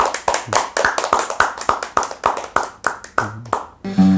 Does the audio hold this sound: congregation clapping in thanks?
yes